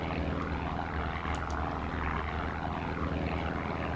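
A Spitfire aircraft engine in the WWII Online game drones steadily with a continuous propeller hum, moderately loud and unbroken, with a couple of faint high-pitched blips over it.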